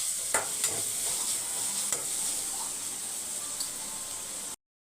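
Chopped onions are stirred and fried in a pan, a continuous close sizzle broken by a few sharp scrapes and taps of the spoon against the pan before it cuts off abruptly near the end.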